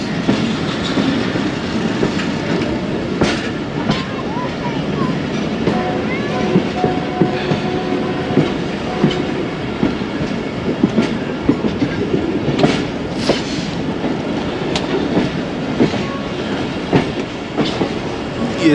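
The Khyber Mail passenger train runs on rails through foggy winter Punjab, with a continuous loud rumble and rattling carriages, plus sharp intermittent clicks and knocks from the wheels over the track joints.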